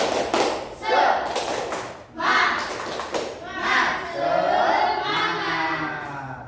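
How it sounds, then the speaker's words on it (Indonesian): Classroom children in a third-grade religion lesson do a rhythmic spirit clap, with bursts of clapping and taps alternating with loud group chanting from the young voices. "Coba tepuk semangat."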